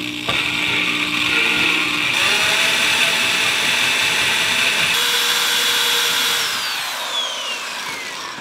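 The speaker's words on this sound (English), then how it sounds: "Now we can just start drilling." A power drill bores out a spot weld in sheet metal, a loud, steady high-pitched whine with grinding bite that holds for several seconds, shifts pitch midway, then slowly winds down near the end.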